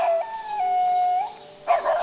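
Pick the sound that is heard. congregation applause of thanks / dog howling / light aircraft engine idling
dog howling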